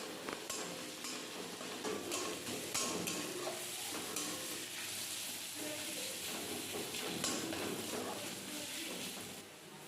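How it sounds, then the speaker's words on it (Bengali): Potatoes seasoned with turmeric and salt fry in a pan with a dense, continuous sizzle and crackle, with faint stirring and scraping mixed in throughout, fairly quiet and with no talking. "এখন আলুটা লাল লাল মতো করে ভাজা হবে"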